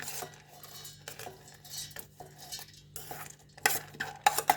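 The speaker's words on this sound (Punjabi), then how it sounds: "ਹੁਣ ਆਪਾਂ ਨਾ ਮਿਕਸੀ ਜੱਗ ਦੇ ਵਿੱਚ ਆ ਦਾਲ ਪਾ ਦੇਾਂਗੇ" Soaked moong dal tipped into a mixer jar while making paneer-stuffed moong dal chilla, with scattered light clinks, scrapes and soft pattering of wet lentils against the jar, no voices.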